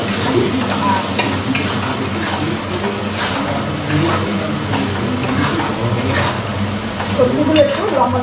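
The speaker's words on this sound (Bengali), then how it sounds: "এবারে আমি গাজরটা একটু ভেজে দেবো" Carrots fry in hot oil with salt and turmeric, a steady loud sizzle close by, with stirring and occasional scraping throughout.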